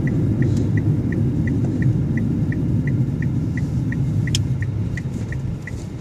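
A car drives along a road while turning, its engine and tyre rumble steady and close throughout, with a faint regular ticking of the indicator running alongside.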